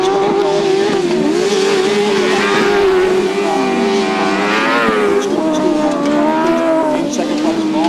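Grasstrack racing motorcycles at speed on a dry track, loud and continuous engine whine rising and falling as they pass along the back straight, with faint commentary underneath.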